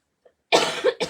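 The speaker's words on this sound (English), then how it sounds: "I don't mean to be coughing in your ear" A single sharp cough, close and fairly loud, followed by a short second burst after a brief pause.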